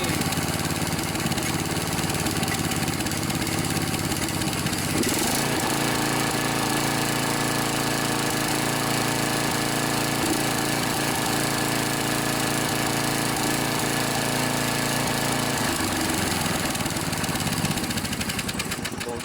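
Snapper riding lawnmower, a junkyard machine repaired after not starting, with its engine running steadily and loud up close, a rough mechanical drone that shifts pitch slightly around the middle and near the end.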